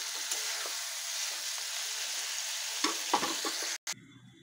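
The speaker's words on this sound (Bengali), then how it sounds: "এবার দিয়ে দেবো ঝিঙেটা ভালোভাবে মশলার সঙ্গে কষিয়ে নিতে হবে" Chopped ridge gourd sautéing in spice masala in a pan, a steady close sizzle with occasional stirring scrapes and clatters, then a brief clunk near the end.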